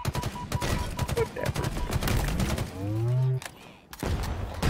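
Gunfire in Halo Infinite's campaign, a quick series of rapid shots followed by sweeping, rising sci-fi weapon tones and a whooshing burst, with in-game voices talking over parts of it.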